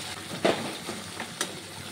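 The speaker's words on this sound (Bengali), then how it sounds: "মাছটিকে একটু হালকা হাতে খুন্তি দিয়ে এভাবে নেড়ে দেব" Bhetki fish in mustard paste and coconut milk is stirred gently with a metal spatula in an oily pan, giving a soft low sizzle with a couple of light scraping taps over a steady hiss.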